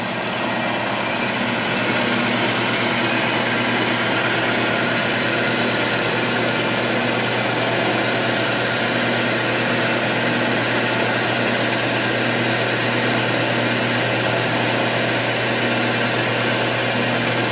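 A wood lathe spins at about 1,000 RPM while a fountain pen blank is sanded, giving a steady, continuous mechanical hum with a constant tone that holds unchanged throughout.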